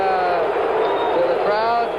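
A stadium crowd at a 1976 Raiders–Steelers football game boos in a sustained, droning roar, loud and continuous throughout.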